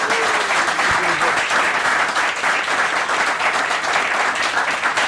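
Loud, dense applause from an audience at a live podcast meetup, continuous clapping that fills the whole stretch without a break.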